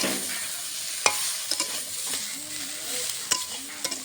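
Drumstick (moringa) stems fry in a pan for a vegetarian dal dish, a soft sizzle under a few scraping stirs and sharp clinks of a utensil against the pan.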